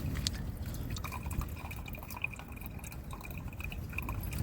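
Water drips steadily from a leaking filter bag in quick, irregular drops against a low background hiss, close by and fairly faint.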